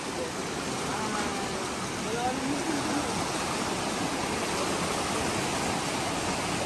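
A river flows steadily in an outdoor setting, its broad, even rush of water continuous and fairly close throughout, with no clear voices breaking through.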